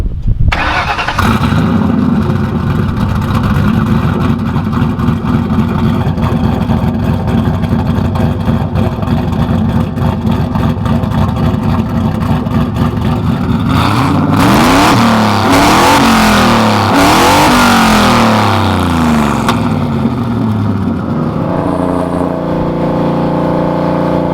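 Ford Mustang GT 4.6L 2-valve engine with an On3 70mm turbo revving hard, a continuous loud roar that swells and climbs in pitch with gear changes before settling to a rumble.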